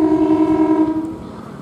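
Derailed Argo Wilis executive-class passenger train carriages are towed very slowly along the track, giving a steady low droning hum with a tonal whine that fades gradually over a short stretch, with no voices.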